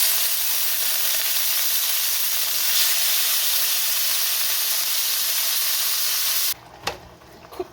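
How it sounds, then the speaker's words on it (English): Chicken pieces for kung pao chicken fry in a worn pot on the stove, giving a steady close sizzle and hiss that cuts off abruptly near the end, followed by a few clanks. "It's kind of frying up itself"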